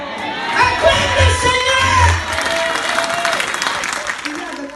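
A congregation at a Christian crusade meeting claps and cheers in acclamation, a loud wash of applause and shouts that swells early and then gradually fades, with voices mixed in.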